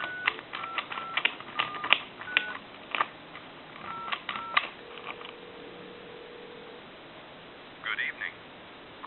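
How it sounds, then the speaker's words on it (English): A Western Electric Princess telephone being dialed gives off a quick series of clicks and short tones, followed by a held tone and a pause, with faint talk in the background. "Dial the time and temp number again."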